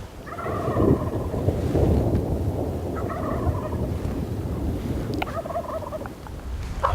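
Wild turkeys gobble in bursts from a distance, several rattling calls spread across a steady windy outdoor background.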